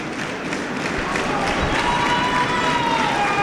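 A wrestling crowd at an independent show cheers and roars in a steady, dense wall of noise that stays loud and continuous throughout, with no clear individual words.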